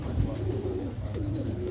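Pigeons kept in Lahore give a low, soft cooing that rolls on steadily, fairly close, with faint background noise and a hint of chirping.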